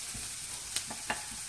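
Onions frying in a pan on a home kitchen stove, a steady broad sizzle throughout with a few brief stirring scrapes rising above it, close and continuous with no talking.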